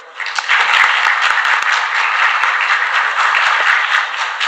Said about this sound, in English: help me welcome, with a huge round of applause